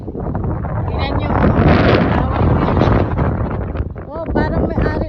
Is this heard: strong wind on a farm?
yes